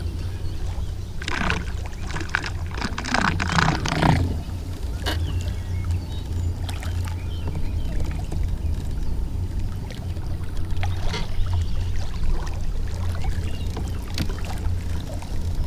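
Minn Kota trolling motor fitted with a weedless wedge churns steadily through weeds in the water, a continuous low motor drone with splashing and watery rushing, slightly labored, with no talking.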